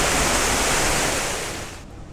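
A waterfall at Disney's Animal Kingdom pours down, heard from behind the falling water as a loud, steady broadband rush that eases off slightly near the end.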